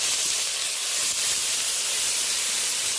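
Grated onion sizzling hard in hot oil with black cumin, being cooked for a khoira fish curry; a steady, close, loud hiss fills the whole stretch with no talking.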